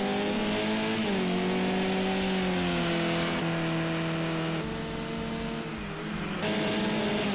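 Race car engine at high revs under hard braking into the Montreal hairpin at Snetterton, its tone sliding down through gear changes, loud and steady with tire noise and no talk.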